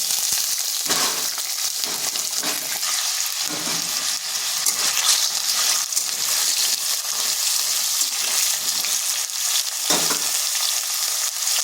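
Cut potatoes frying in oil with turmeric and salt, a steady dense sizzle running throughout at close range, with occasional stirring scrapes and small bursts, no voices.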